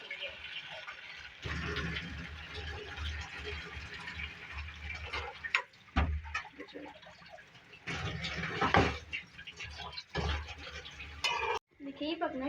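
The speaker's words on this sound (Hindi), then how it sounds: "हम 2 गिलास पानी ऐड करेंगे" Water is poured into a cooking pot of chicken stew, a steady splashing fill that stops and restarts, with clinks of pans and a voice speaking over parts of it.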